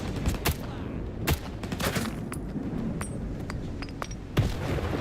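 A grenade blast amid gunfire in a shooter video game, with sharp repeated shots and bursts cracking over a steady rumbling background, one heavier hit standing out near the end.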